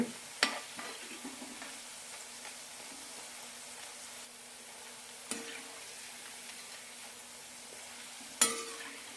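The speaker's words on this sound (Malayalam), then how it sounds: "മീഡിയം ടു ലോ ഫ്ലെയിമിലിട്ട് വറുത്തെടുത്താൽ മതി ഹൈ ഫ്ലെയിമിലാകുമ്പോൾ പെട്ടെന്ന് ചോന്ന് കിട്ടും" Crispy channa dal pakoda deep-frying in oil over a medium-to-low flame gives a steady, soft sizzle up close, broken by a few sharp clicks of a utensil against the pan.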